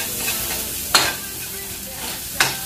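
Garlic browns in a hot pan with a steady close sizzle, broken by two sharp stirring scrapes against the pan.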